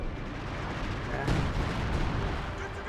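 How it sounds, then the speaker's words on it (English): An artillery barrage in Company of Heroes 2, a dense rumble of heavy shelling and gunfire with one sharper blast standing out midway, while a commentator talks over it. "You got a barrage coming on in."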